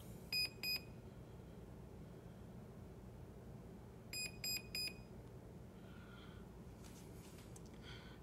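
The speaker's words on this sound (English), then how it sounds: "I want to set it to three beeps." Quick electronic beeps from a Pro Boat Zelos 36 boat's electronic speed controller during programming: a pair near the start, then three evenly spaced beeps later, faint high tones over steady background hiss.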